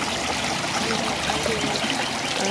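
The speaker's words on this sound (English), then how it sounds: "And the water comes back down." Water runs steadily through backyard aquaponics trays made of roofing material, a continuous soft hiss of trickling and splashing that stays even throughout, with no voices.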